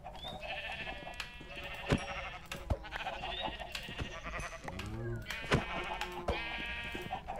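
Sheep in the modded video game CrafTopia bleat repeatedly and loudly over a constant game background, with several overlapping wavering calls and sharp clicks mixed in.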